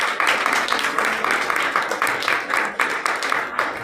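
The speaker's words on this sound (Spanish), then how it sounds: "pongo el aplauso a Jesús" Recorded applause played during a religious gathering, a dense burst of crowd clapping with a pulsing, uneven texture that continues steadily throughout.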